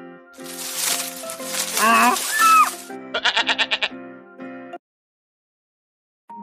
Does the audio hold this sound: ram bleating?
yes